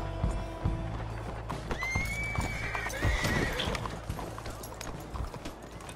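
Horse hooves clip-clop steadily in Red Dead Redemption 2 as a horse slows to a hitch, with a clear neigh rising midway over low ambient game noise.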